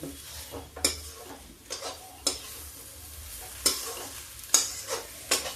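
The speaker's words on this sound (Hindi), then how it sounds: "देखिए इसको हम खूब भूनेंगे।" Nimona, a spiced pea dish, is stirred and roasted in a pan, with repeated scraping strikes of a spoon against metal at uneven intervals over a faint sizzle, fairly close and moderately quiet.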